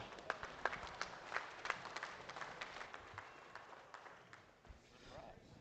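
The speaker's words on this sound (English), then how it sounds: "let's give them a big round of applause" Small audience giving a round of applause, scattered distinct claps that thin out and fade, fairly quiet and roomy.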